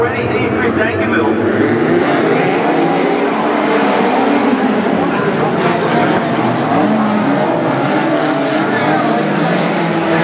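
Speedcars race around the Sunshine Stadium track in a Victorian Speedcar Championship qualifier, a loud, continuous roar of engines filling the whole stretch while a commentator talks over it.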